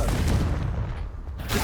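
A Confringo blasting spell in Hogwarts Legacy bursts into a loud, dense explosion that fills the short moment with a heavy, sustained boom and rumble.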